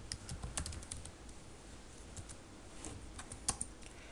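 Fingers typing script code on a computer keyboard, a quiet run of light irregular key clicks with a few sharper taps near the end, no voices.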